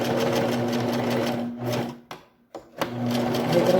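A sewing machine stitching in reverse hums in a fast, even buzz up close, cutting out briefly twice before running again.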